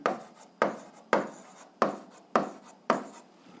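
A hand writes out an algebra solution in short, repeated strokes, about six crisp scratchy bursts at a steady pace. Each bursts in sharply and fades, close and clear, with no voices.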